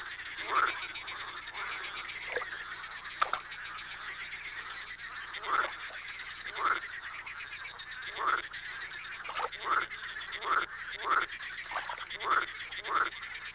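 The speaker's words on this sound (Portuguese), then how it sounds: "Ao cair da noite, os coachos destes excitados anfíbios chegam ao seu clímax" Marsh frogs in a river delta croak at nightfall, a chorus of repeated rising calls about once a second over a steady bed of wetland ambience.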